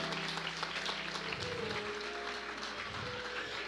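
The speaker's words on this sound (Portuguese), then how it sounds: "Aplauda Jesus." A church congregation claps in a dense, steady wash of applause, fairly faint and distant, blended with room echo and a low musical tone.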